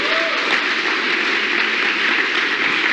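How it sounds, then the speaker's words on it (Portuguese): A church congregation applauds in a thick, even roar of clapping that holds steady for the full few seconds, fairly loud and close. "Você pode aplaudir Jesus por isso?"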